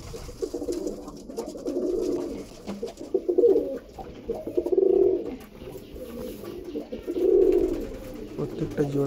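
Breeder pigeons, a pattee-marked hen and an adult cock, coo in repeated low rolling phrases close by, several bursts over a few seconds with a faint background.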